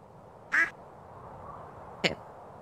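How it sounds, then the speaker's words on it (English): Two separate duck quacks in the farming video game Stardew Valley, short and clear over quiet background ambience, the second slightly sharper than the first. "We need a duck."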